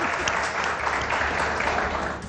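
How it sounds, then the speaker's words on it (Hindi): A studio audience claps in a steady burst of applause, fairly close and moderately loud, lasting a couple of seconds with no talk over it. "प्यारे पठानों के लिए ताली"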